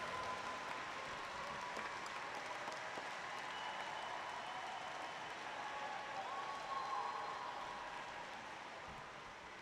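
Crowd applause and cheering from the home spectators at the Queensland track cycling state championships after a sprint race, a steady broad wash of clapping lasting throughout and fading slightly toward the end.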